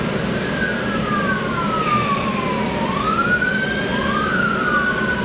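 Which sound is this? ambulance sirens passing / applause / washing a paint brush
ambulance sirens passing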